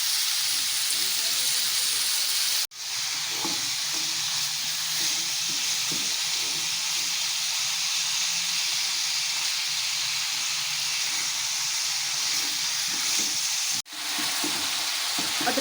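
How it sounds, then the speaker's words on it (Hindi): Mutton sizzling and frying with ginger and garlic in a pot over a slow flame, a steady close hiss that runs nearly throughout, with two brief dropouts and occasional stirring scrapes. "अदरक लहसुन के साथ भूनते हुए तकरीबन 6-7 मिनट हो गए हैं।"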